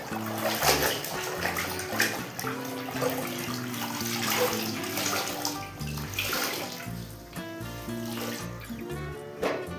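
Washed clothes are wrung out over a tub of water, with steady splashing, trickling and dripping that stays close and continuous throughout.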